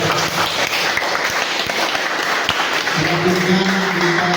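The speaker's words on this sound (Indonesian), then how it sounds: "Kasih tepuk tangan dulu buat kelompok." A classroom audience gives a group a burst of steady clapping, dense and close, fading toward the end as a voice speaks.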